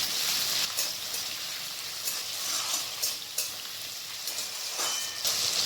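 Chopped tomatoes sizzle and fry in a hot pan for a Bengali fish-roe dish, a steady close hiss broken by soft stirring scrapes, with no talking.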